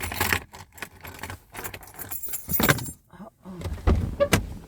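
A bunch of keys jangles beside a car, with several bright metallic rattling bursts close to the listener, separated by brief quiet gaps and mixed with faint handling noise.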